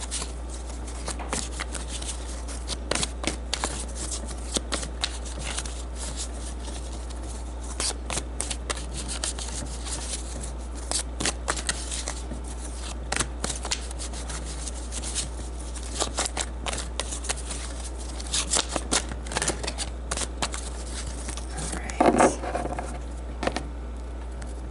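Romance angel oracle cards being shuffled by hand during a tarot reading, a long run of soft, rapid riffling and patting bursts close to the listener, quiet overall with a few sharper slaps near the end and no talking.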